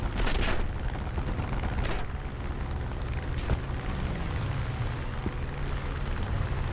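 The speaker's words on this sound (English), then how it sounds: "That's kind of funny that they actually attempted to kill me with the bombs" Bombs explode in War Thunder Mobile's aircraft mode: several loud, rumbling booms with sharp bursts near the start and again around two and three and a half seconds, over a constant roar of engine and battle noise.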